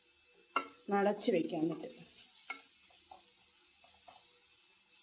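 Beetroot stir-fry (mezhukkupuratti) being stirred in a pan on the stove, giving a near burst of scraping, sizzling clatter for about a second, then fading to light intermittent stirring sounds while a voice speaks briefly.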